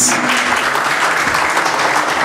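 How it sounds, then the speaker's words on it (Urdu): A seminar audience breaks into loud, sustained applause, many hands clapping together in a dense, steady wash. "اپنے آپ کے لیے بھی زوردار تالیاں بجائیں پلیز"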